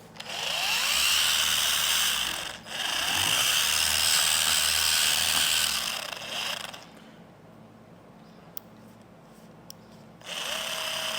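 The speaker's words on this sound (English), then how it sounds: "then we'll fire up this polisher" A power polisher running on faded vinyl and plastic automotive trim, a loud steady whine that briefly dips, cuts out for several seconds with faint taps, then starts up again close by.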